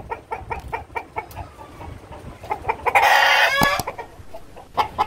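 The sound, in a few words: Fayoumi chickens clucking on a farm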